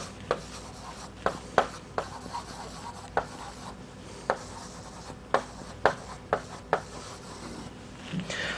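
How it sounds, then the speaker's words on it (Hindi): Chalk or marker tapping and scratching on a classroom board while a train name is written, a series of sharp irregular taps over faint room hiss. "तो देखिए ट्रेन का नाम मैं लिख लेता हूँ यहाँ पे,"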